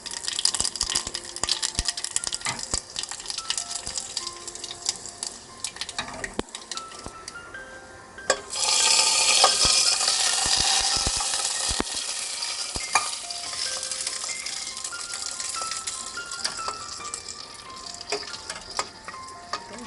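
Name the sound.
mustard seeds and dry chillies crackling in hot oil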